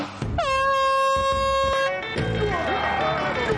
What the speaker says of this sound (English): Rocking Rebel, on the sound of the horn, get ready to roll!